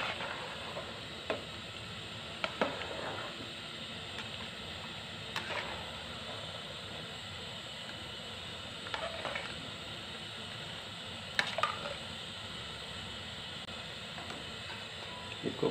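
Vegetable pulao with capsicum and cabbage fries and gets mixed in a pot: a soft, steady sizzle with occasional faint scrapes and knocks of a spoon stirring, quiet and with no talk.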